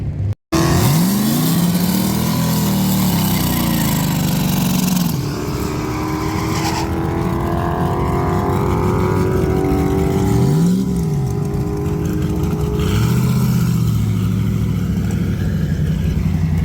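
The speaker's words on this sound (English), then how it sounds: "Sounded like it was doing it again, cutting out." A 1980 Pontiac Trans Am engine revs steadily and loudly at a track, rising and dropping in pitch several times, with stumbles where it sputters and briefly cuts out.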